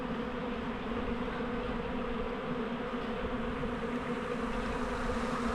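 A dense, steady buzzing of many honeybees swarming close by into a small nucleus hive, continuous with no pauses.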